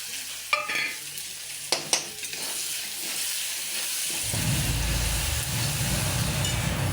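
Half-fried potatoes being cooked in a pan with red chili powder, turmeric and salt, giving a few sharp clatters and then a loud, steady sizzle and stirring that swells after spices hit the hot oil.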